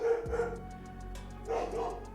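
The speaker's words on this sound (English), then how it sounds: "My dog is barking." A dog barks in a Werewolf: The Apocalypse game scene, a few sharp nearby barks early on and again near the end over a low ambient hum.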